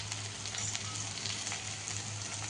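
Sliced okra frying with cumin and coriander powder in a pan over high gas gives a steady, close, continuous sizzle with faint crackles and no talking.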